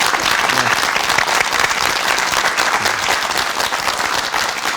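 A television studio audience applauds steadily, a dense wash of many hands clapping at an even level for several seconds.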